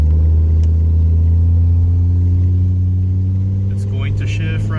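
A big van's engine hums at low RPM while cruising gently for fuel economy, a steady deep drone throughout with brief higher-pitched squeaks near the end.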